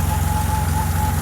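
The six-cylinder engine of a Porsche 914/6 runs steadily at a close, loud idle with a throbbing low rumble and no talk over it.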